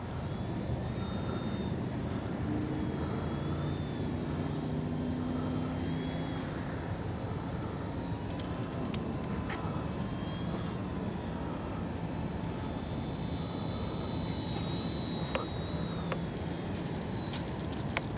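An RC H-King Kitfox model plane comes in to land, its engine a faint, steady distant drone with a few brief whistling tones over it.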